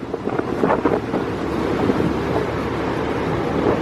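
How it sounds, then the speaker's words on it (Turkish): Strong wind roars across the microphone over the wash and crash of rough storm waves at sea, a container ship nearby, a continuous stormy rush with no voices. "Hava gerçekten beter. Dalgalar daha da feci oldu."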